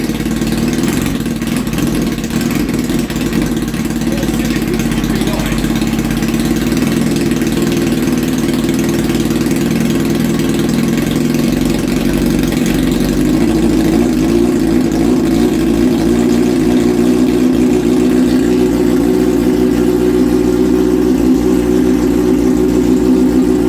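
A Suzuki GSXR 1000 K5 motorcycle idles steadily just after its first start, a loud, even mid-pitched engine hum that runs unbroken the whole time with no talking.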